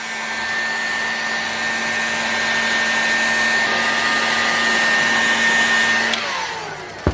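A heat gun blows hot air onto a Boca OS 46 SF bearing assembly, a loud, steady whining hiss that runs unbroken for several seconds and then cuts off abruptly near the end.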